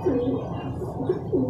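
Soft, low cooing from a racing pigeon, a few rolling coos repeating in short bursts against a steady background hum.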